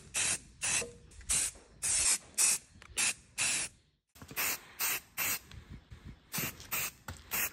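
Spray paint goes onto freshly welded metal in a farm workshop, heard as a series of close, loud hissing bursts of about half a second each, with a brief pause midway.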